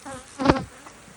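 Honey bees buzz during a hive split with virgin queens, a brief swell of buzzing rising and fading within a second against a low hum of the colony.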